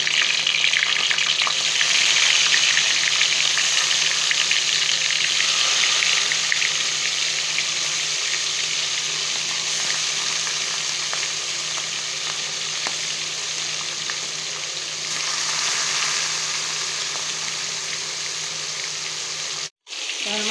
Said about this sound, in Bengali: তেল দিয়ে দিলাম মাছ ভাজি করবো